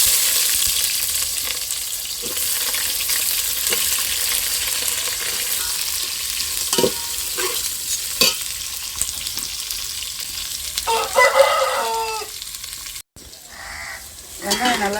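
Onions sizzle steadily frying in oil for village-style chicken curry, with occasional stirring clinks, then a brief louder burst of crackle and scraping near the end; close and continuous.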